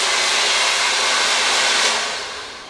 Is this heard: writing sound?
no